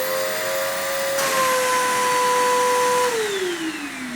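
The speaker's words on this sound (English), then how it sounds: "turn your vacuum back on and put your hand over here to see if you have suction" A vacuum cleaner runs steadily and loudly during a hose suction check, its whine shifting in pitch as the airflow changes, with no voices.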